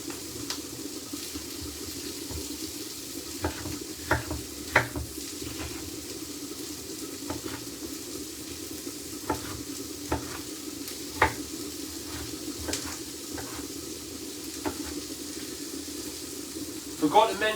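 Peppers go into a pan and fry for a chicken and chorizo pasty filling, a steady soft sizzle running throughout, dotted with occasional light clicks and taps of stirring, with no talk.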